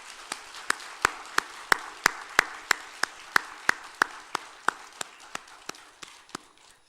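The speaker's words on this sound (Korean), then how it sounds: "우리 하나님께 영광의 박수를 올려드리겠습니다." A church congregation claps to glorify God after a choir hymn, with sharp, evenly spaced claps in a slow, unified rhythm that swell in the middle and taper toward the end.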